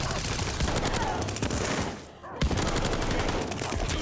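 Rapid sustained automatic gunfire from an MP40 submachine gun in the Call of Duty: Vanguard video game, a loud continuous stream of shots with a brief dip in the middle before the burst resumes.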